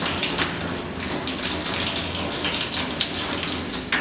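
Hot water pours steadily from a tap in an intaglio printmaking studio, a continuous close gushing hiss with no voices over it.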